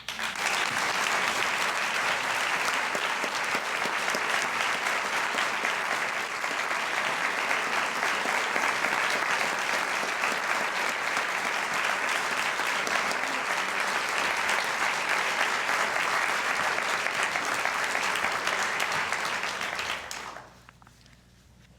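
An audience applauds to welcome Asma Jahangir to the stage, a dense, loud, steady wash of clapping from a large crowd that continues for about twenty seconds before tapering off quickly to quiet.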